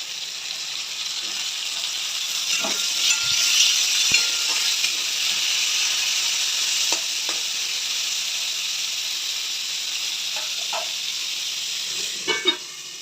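Papaya pieces and vegetables fry in a pan for a Tagore-household Bengali dish, making a continuous close hiss and sizzle with occasional soft stirring knocks near the end.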